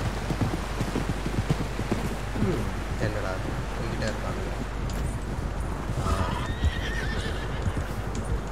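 Horses neighing and hooves clattering in the video game Red Dead Redemption 2, with several whinnies and steady hoofbeats over low wind rumble while voices talk.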